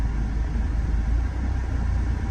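A diesel car engine idles at low RPM, giving a steady, even low rumble heard close up without other sounds.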